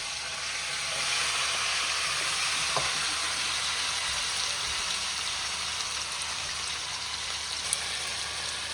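Tomatoes hitting a pan of browned chicken for a macaroni dish, a steady loud sizzle and hiss of frying that holds evenly, with a faint stir or clink partway through and no talking.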